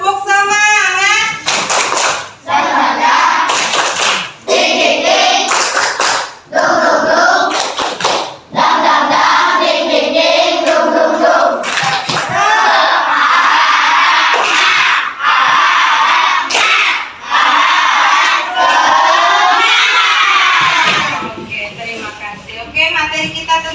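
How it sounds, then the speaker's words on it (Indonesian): Schoolchildren in a classroom perform the tepuk semangat, a rhythmic clapping chant, with loud bursts of hand claps and shouted chanting in quick, patterned phrases. Short pauses separate the phrases, and the group voices ring out close and energetic. "jangan lupa kita selalu menggunakan breaking kita, yaitu tepuk semangat"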